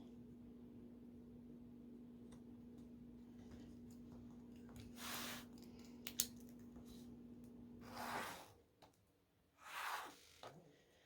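Scissors snip through a sheet of paper for a quilting block, a few quiet crisp cuts close by over a low steady hum.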